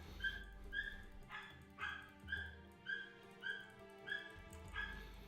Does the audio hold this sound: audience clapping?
no